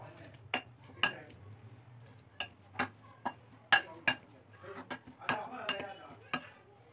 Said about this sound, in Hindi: ये 4 एग्स हैं, इसको हम इसको मैश कर लेंगे